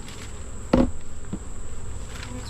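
Honey bees buzz around stacked medium beehive boxes during beekeeping work, a close, steady insect hum with a sharp knock of the wooden boxes and a fainter bump after it.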